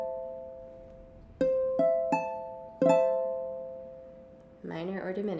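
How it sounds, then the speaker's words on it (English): A minor chord rings out, with several struck notes sounding in a quick sequence and sustaining together, then a person starts talking over the fading tones. "That is a minor chord."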